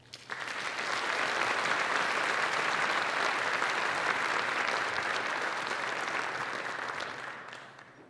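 Audience applause rises sharply and holds steady as a dense, sustained clapping wash in a large hall welcoming a vice admiral at the Naval Academy, then tapers off toward the end.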